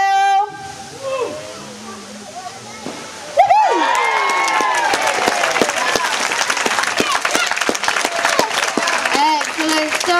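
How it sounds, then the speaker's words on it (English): An audience at a wildlife park sea lion show claps and cheers after a sea lion's ball jump; a splash and voice lead into sudden loud, sustained applause with a whistle-like tone at the start. "please do give him an absolutely huge round of applause."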